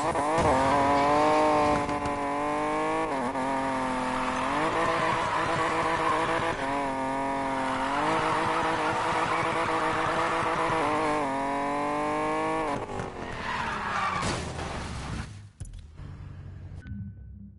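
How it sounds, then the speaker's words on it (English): Off-road car race in the video game Need for Speed Payback: a steady, loud engine roar rising and falling through gear changes, with a brief screech near the end before it cuts away. "I'll show you guys an off-road race."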